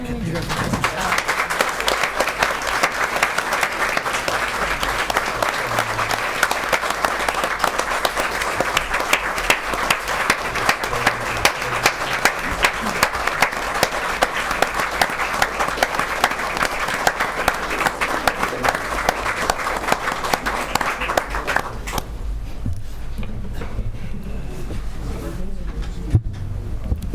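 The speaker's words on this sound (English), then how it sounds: "We're not used to hearing applause in this room" Steady, dense applause fills a city commission meeting room for about twenty seconds, then stops abruptly, leaving quiet room noise with faint murmuring.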